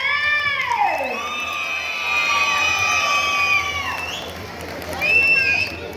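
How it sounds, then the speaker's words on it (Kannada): A festival audience at a Ganeshotsava comedy show in Tumakuru cheers for a comedian taking the stage, with loud, sustained shouts, high whistles and crowd noise over the whole stretch, swelling again toward the end. "ಸೊ ಅವ್ರಿಗೆ ಬರಲಿ ಜೋರದ ಚಪ್ಪಾಳೆ"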